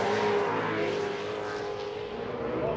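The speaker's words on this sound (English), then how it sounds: "you hear that truck on the rev limit over there" An off-road race truck at a TORC desert race in Primm, Nevada holds a high, buzzing engine roar pinned against the rev limiter. The sound is steady and continuous, heard from some distance with no voices over it.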